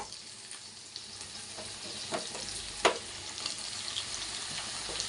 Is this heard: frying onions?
yes